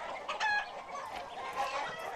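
Chickens cluck and a rooster crows in the video game Far Cry 6, a few faint bird calls over a soft ambient background.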